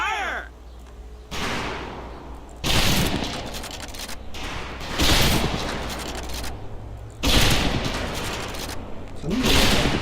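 Loud volleys of gunfire at an outdoor shooting range: several crashing, simultaneous bursts a couple of seconds apart, each trailing into a long echoing rumble, with faint bird calls in the quieter gaps.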